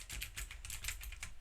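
Fingers clatter on a computer keyboard in quick, irregular bursts of clicky keystrokes, close and fairly quiet, with no one talking.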